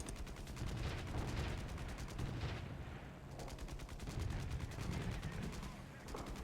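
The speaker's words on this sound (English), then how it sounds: "there's some shots coming in from the right of the Zero" Rapid continuous machine-gun fire aimed at aircraft in War Thunder, with a Zero under fire, dense and loud with brief lulls, over engine drone.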